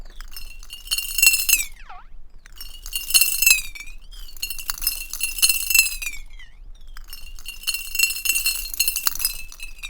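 Glass bottles are rubbed and squeaked for sound design, making four long, bright, wavering squealing passes with short gaps between them, close and clear with no talking.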